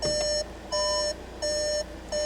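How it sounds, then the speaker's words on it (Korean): A Volkswagen Arteon 2.0 TDI Prestige sounds its door-open warning in a repeating pattern, with four loud electronic beep tones about 0.4 s long, spaced evenly, steady and close. "이 삐삐 소리 나는 건 지금 문이 열려 있기 때문에 이렇게 소리가 나는 겁니다"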